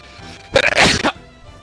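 A single sharp human sneeze, close and loud, standing out alone against a quiet room during a co-op session of the game Temtem.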